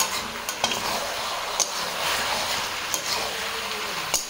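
Curry frying in a pan, with a steady soft sizzle under the occasional scrape and clink of a spoon stirring against the metal.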